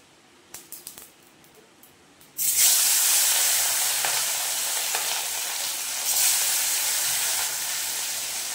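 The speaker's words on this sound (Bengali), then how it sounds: "এইবারে আমি দিয়ে দেবো মাছগুলো।" Pieces of hilsa fish dropped into hot oil in a home kitchen: a few soft clinks, then an abrupt, loud, continuous sizzle and hiss of frying that stays strong to the end.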